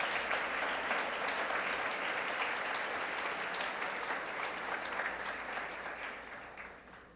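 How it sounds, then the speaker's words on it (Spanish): A church congregation applauds for Jesus Christ during a Spanish-language sermon, a broad wash of clapping that holds steady and then begins to fade near the end. "Denle un aplauso a Jesucristo."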